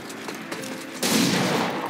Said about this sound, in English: He dodged the shots, that's crazy!